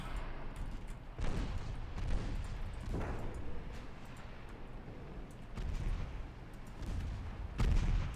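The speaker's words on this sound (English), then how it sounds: "Some good torpedo hits on that ship." Torpedoes striking a warship in the naval battle game Ultimate Admiral Dreadnoughts: several heavy explosive booms burst out over a continuous rumbling battle din, spaced a second or two apart.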